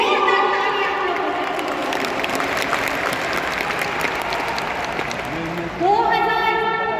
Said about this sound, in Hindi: ये ताली आप अपने लिए बजाइए